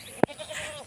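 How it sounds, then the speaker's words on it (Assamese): A goat lets out one short, loud bleat nearby. Faint rustling follows in a quiet farmyard. "আমাৰ ছাগলী 2জনী আছে আৰু সেই দুইজনীক এতিয়া মই এৰাল দিব গৈ আছোঁ।"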